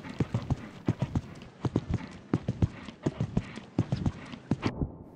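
Horse hooves clip-clop in a fast, steady rhythm as a mare moves through a show jumping run at a prospect competition, each strike distinct and close, with no talk over it.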